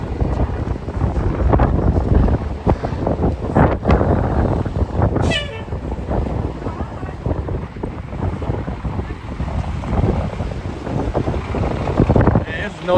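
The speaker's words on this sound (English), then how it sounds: "It's windy around this area right now." Strong winter wind on a street on New York's Upper West Side buffets the microphone in loud, gusty rumbles, with city background noise underneath and occasional faint voices.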